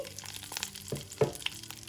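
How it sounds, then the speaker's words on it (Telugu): Soft, steady crackle of green chillies frying in oil, with a few sharper pops and a stirring clatter, fairly quiet and close, no talking. "ఇప్పుడు ఈ పచ్చిమిరపకాయలు వేయించుకుందాం"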